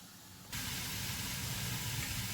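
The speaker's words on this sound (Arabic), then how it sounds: "دابا نخليو الدجاج ديالنا يتقلى" Chicken pieces frying in a pan: quiet at first, then an abrupt, loud, broad hiss of sizzling oil that holds steady to the end.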